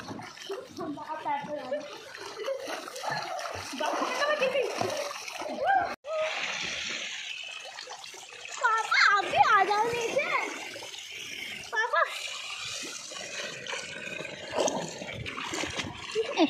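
Children splash and slosh in a shallow, only partly filled swimming pool. Steady splashing runs throughout, under near, lively kids' chatter and laughter.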